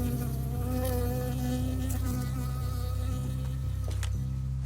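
A bee buzzes steadily and close in the video game Firewatch, a continuous droning hum with wavering pitch that stays loud throughout.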